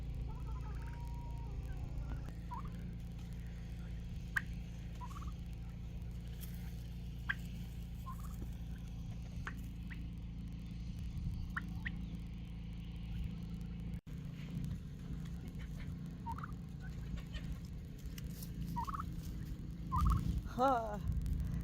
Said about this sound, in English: I love how the turkeys unzip the grain heads off of the grasses.